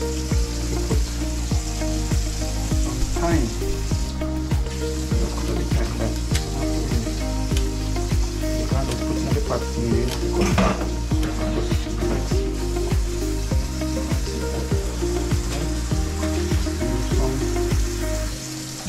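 Brown stew fish sauce with tomato sizzles steadily in a pan, a loud continuous frying hiss with occasional stirring clinks, and no one speaking.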